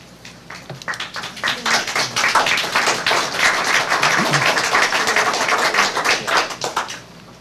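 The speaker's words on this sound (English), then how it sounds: "No applause, please." Audience clapping at a city council meeting starts with scattered claps, swells into a sustained round of applause, and then stops abruptly near the end.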